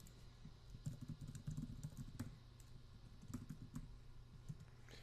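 Keys clatter on a computer keyboard in quick irregular bursts, close and fairly quiet, with brief pauses between runs of typing and no voices.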